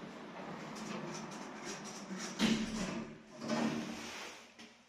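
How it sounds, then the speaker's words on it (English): A 2020 Rubax passenger lift at Twickenham Station Plaza slides its doors shut, a soft sliding rumble that swells twice and ends in a clunk, close and fairly quiet. "Doors closing."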